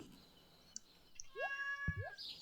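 Video game cat in Stardew Valley gives a couple of short, quiet rising meows close together against a faint background, with no speech.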